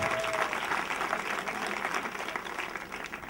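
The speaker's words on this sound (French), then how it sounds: "Alors, applaudissez pour Jésus qui est au milieu de nous." A congregation at a prayer vigil in Bonoua bursts into sustained applause, a dense, even wash of many hands clapping together at moderate distance, holding steady without a break.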